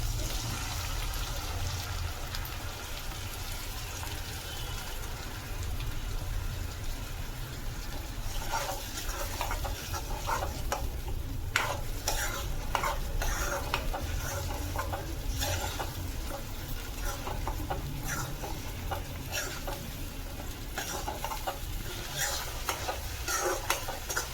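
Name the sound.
ground masala paste stirred and frying with onions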